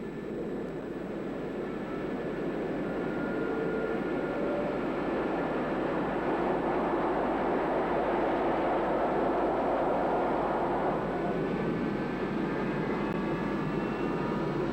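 An F-4E Phantom II jet engine roars at an air base, a steady, broad, loud rumble with faint whining tones drifting in pitch throughout.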